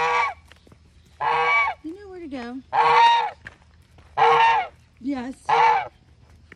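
A goose honks repeatedly in a barn during a night check, loud, close calls in a broken rhythm, with someone speaking softly to it in between.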